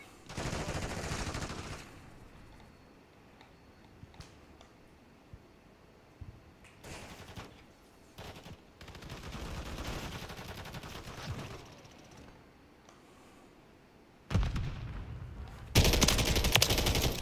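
Bursts of DG-58 LSW light machine gun fire in Call of Duty Modern Warfare III, loud automatic strings at the start and near the end, with quieter game sounds and scattered shots in between.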